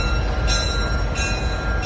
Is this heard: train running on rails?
yes